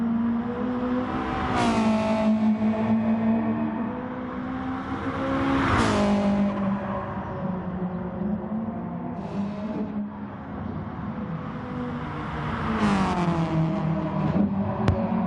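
Race cars on an outlap in the WRX Challenge racing video game, engines loudly revving and shifting through repeated rising pitch sweeps, with a few passes building and fading, no talk.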